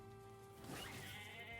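Goat bleating in a video game, a single quavering bleat rising over a steady low electronic hum, faint and brief with no speech.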